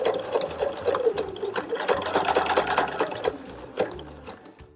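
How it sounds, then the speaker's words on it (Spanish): A sewing machine stitches a seam through chenille fabric, a loud, close, steady mechanical whirr with rapid needle chatter running for several seconds before slowing near the end. "La primera de las costuras la damos justo por la marca que hemos realizado."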